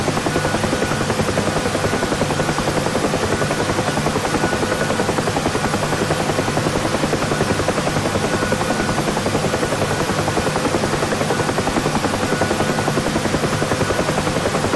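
A UH-1 Huey helicopter in the DCS flight simulator drones steadily on approach to a runway, a loud constant rotor and turbine buzz with no break and no talk.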